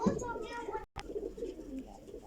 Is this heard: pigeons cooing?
yes